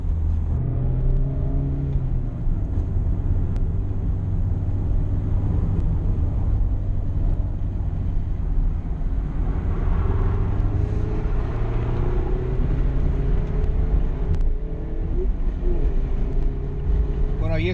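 A 2017 Mazda MX-5 Miata RF driven on roads around San Diego, its engine a steady close drone with rising and falling revs and continuous road rumble throughout.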